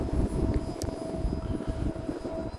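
A twin 64mm EDF E-flite A-10 Thunderbolt II model jet flies overhead with a continuous whooshing, whining drone that stays fairly steady and moderately distant under gusty wind noise.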